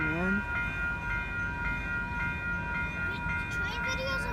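A freight train rolls past with a steady rumble of wheels and cars, a horn tone sounding over it, with people chatting nearby.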